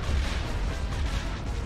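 Ion cannons fire in a Star Wars strategy game, heard as a low, rumbling, muffled barrage that stays fairly quiet and constant throughout.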